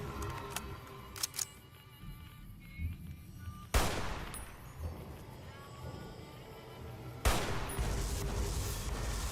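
Gunfire in the video game Fallout: New Vegas comes as two loud, sharp shots spaced a few seconds apart, each trailing off into ambience, with quieter clicks and taps between and no talk.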